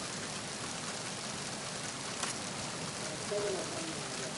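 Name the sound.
rain falling in the video game Metal Gear Solid 2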